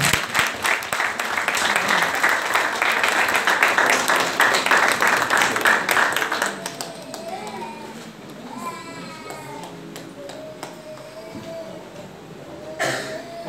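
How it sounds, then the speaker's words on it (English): Congregation clapping hands together during a Sunday church service, a dense, steady wash of applause for several seconds that fades out, leaving softer murmuring and a voice speaking over the room. "Clap your hands and take care."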